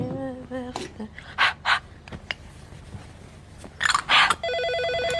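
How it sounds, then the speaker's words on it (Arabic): A home landline telephone rings with an electronic tone at the end, preceded by bursts of breathy voice sounds and rustling in a room. "هو لسه في ناس بتتصل على تليفون البيت؟"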